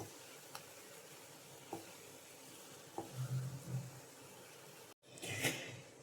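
Grated coconut dry-frying in a pan for erissery until brown and dry, giving a faint, steady sizzle with a few soft clicks and stirring scrapes, and a brief louder burst of frying near the end.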